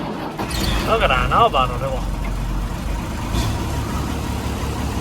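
A farm tractor engine cold-starts and settles into a steady idle, rumbling low and close while people talk excitedly over it.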